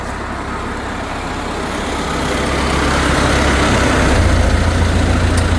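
A tractor engine idles nearby in a walnut orchard, a continuous low rumble that swells slightly louder partway through, with no voices.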